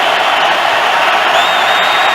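A roaring football stadium crowd at an NFL game between the New England Patriots and an opponent during a tense third down, a loud, steady wall of noise with no breaks.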